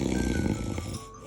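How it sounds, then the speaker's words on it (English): Deep, rattling snores from sleeping people in an apartment rumble close and loud, one long rough inhale that trails off into quiet. "The boys are in the apartment right now, snoring like crazy."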